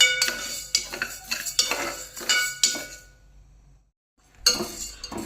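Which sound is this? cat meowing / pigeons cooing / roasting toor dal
roasting toor dal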